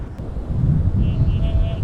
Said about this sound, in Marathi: वारा इतका आहे ना की ट्रायपॉड राहतच नाहीये.